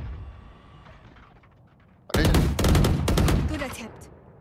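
Bursts of rapid gunfire in a video game, starting abruptly after a quiet stretch and continuing as loud, closely spaced shots until the end.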